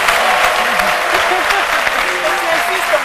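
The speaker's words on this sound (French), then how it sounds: "on a envie de vous applaudir" A studio audience on a midday television talk show breaks into loud, sustained applause, a thick even wash of clapping with voices audible underneath.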